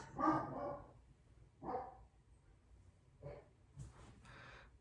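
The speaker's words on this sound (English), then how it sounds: "dog losing his freaking mind" A dog barks in a room, with four separated, moderately loud barks spaced about a second apart, slightly distant, with no talking over them.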